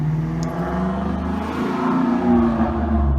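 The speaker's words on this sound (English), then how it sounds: "That's a loud fucking car right there." A loud car passes close by, its engine a deep, rising and falling rumble that swells toward the end, heard alone without talk.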